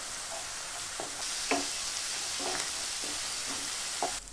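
Ginger-garlic paste with turmeric, chilli and cumin powders frying in a pan for a soybean do pyaza, a steady soft sizzle broken by repeated scraping stirs, quiet and continuous without speech.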